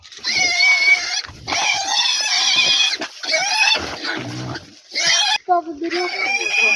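Piglets being carried off to a new farm, squealing and grunting in loud, overlapping bursts close to the microphone, with short pauses between them and a person's voice talking at moments.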